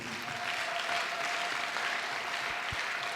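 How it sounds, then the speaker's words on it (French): A church congregation applauding, a dense, even wash of clapping that stays steady from start to finish, fairly distant and alone. "Applaudis très bien."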